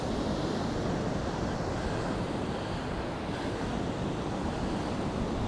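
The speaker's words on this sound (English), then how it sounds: "The waves are just coming over the rocks there." Steady roaring surf breaking over rocks with constant wind noise at Costa de la Calma, waves washing and breaking without pause, loud and close, no voices.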